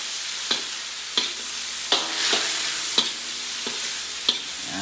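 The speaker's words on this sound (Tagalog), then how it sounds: "Hayaan muna natin haluin ito." Chicken adobo simmers and sizzles steadily in a pan. About six evenly spaced clinks and scrapes of a spoon against the pan come through as it is stirred. No voices are present.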